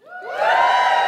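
A live audience at a feminist comedy podcast recording cheers and whoops, a short burst that swells quickly into loud, sustained crowd shouting.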